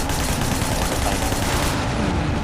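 Loud, continuous rapid gunfire in the video game Sleeping Dogs fills the whole stretch, a dense, unbroken rattle of shots with no pauses.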